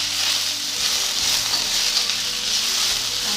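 Cabbage-type greens and large red chilies stir-fried for fried noodles, giving a steady, loud, even sizzle that runs the whole way with no talking.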